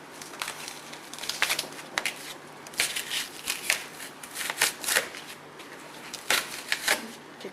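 Fiberglass fender extension for a 427 Cobra being peeled off wax paper, close rustling, crinkling and crackling in irregular bursts, fairly quiet, with no talking.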